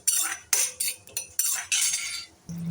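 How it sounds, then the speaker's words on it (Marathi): A metal spoon stirring pistachios roasting in ghee in a pan, heard as a series of about six short, close scraping and clinking strokes in a quick irregular rhythm, with no talk. "आता हे जे पिस्ते आहेत ना ते मी भाजून घेणार आहे."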